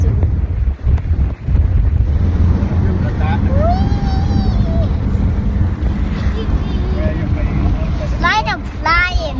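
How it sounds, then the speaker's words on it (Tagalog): Strong wind roars and buffets the microphone throughout, a loud steady rush with faint birdlike chirps in the background. "Wow, so windy. So windy."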